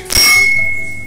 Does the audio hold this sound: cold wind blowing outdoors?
no